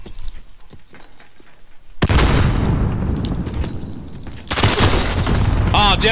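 In Call of Duty: Modern Warfare multiplayer, a quiet moment breaks into a loud grenade blast followed by a rolling burst of gunfire, then a second sharp eruption of shots, with faint voices underneath.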